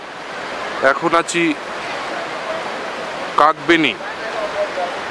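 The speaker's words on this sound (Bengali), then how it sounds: "আর এই যে আমার সামনে দিয়ে বয়ে চলেছে এই সেই বিখ্যাত কালীগণ্ডকী নদী" Kali Gandaki river at Kagbeni in Nepal's Mustang region, a steady broadband rush of flowing water running continuously beneath two short bursts of nearby speech.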